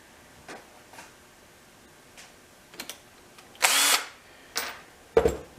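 A power drill whirs in short bursts, about two brief runs, fitting a drill bit while building a birch coffee table, between faint clicks and taps in a quiet room.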